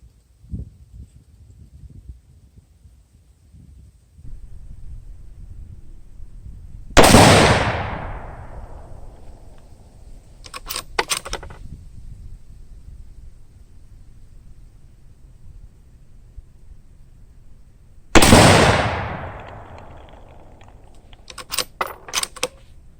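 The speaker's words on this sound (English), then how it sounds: "But let's just take some shots here and see what we can do." Two loud .243 rifle shots from a Savage Model 11 Trophy Predator Hunter, spaced about eleven seconds apart, each a sharp crack with a long fading tail followed by brief clicking of the bolt being worked.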